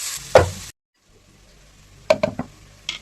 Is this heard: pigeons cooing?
no